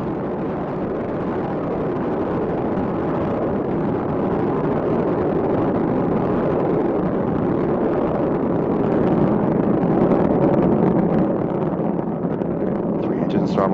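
Space Shuttle Endeavour's three main engines roaring during ascent, a continuous broad, loud rumble that swells slightly toward the end with no break.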